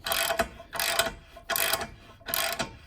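Ratchet wrench cranking a bushing into the rear subframe bore of a Volvo 850 T-5R, giving four evenly spaced bursts of rapid metallic clicking, close and loud, with no talk.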